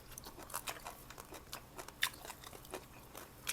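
Close, crisp crunching as someone bites and chews crispy grilled chicken, with quick irregular crackles.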